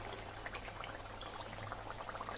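Paratha dough made with egg and maida frying in medium-hot oil, giving a steady, dense sizzle and bubbling that continues evenly throughout without pause.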